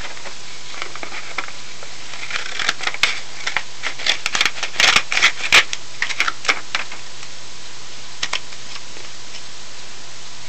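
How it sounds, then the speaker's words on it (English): Scissors snip off the extra paper from an origami bird, a run of sharp, close clicks and cuts clustered in the middle, with quieter ticks before and after. "Get some scissors and cut off the extra part."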